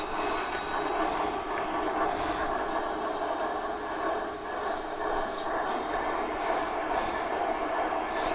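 Locomotive engines start up in the Run8 train simulator, giving a loud, continuous rumbling hum with a broad hiss and brief brighter bursts scattered through, steady for several seconds with no talk.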